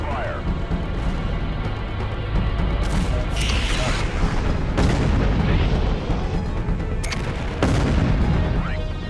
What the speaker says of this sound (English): I continue to evade, jumping away and drawing them into the artillery fire.